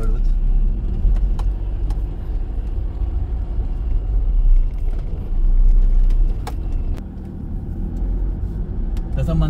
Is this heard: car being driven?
yes